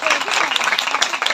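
Church congregation clapping during a worship service, a short burst of loud, dense hand claps with a voice mixed in.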